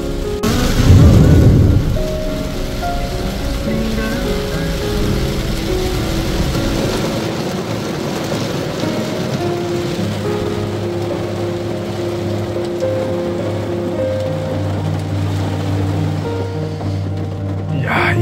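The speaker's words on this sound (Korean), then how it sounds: "번개까지 칩니다." Heavy rain pours down steadily in a thunderstorm while out on the water, with a loud low rumble of thunder near the start and a dense, continuous wash of rain throughout.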